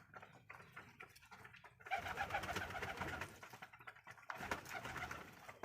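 Pigeons coo in repeated soft, throaty phrases close by, rising in bursts with brief pauses between, where the birds are kept and fed alongside rabbits.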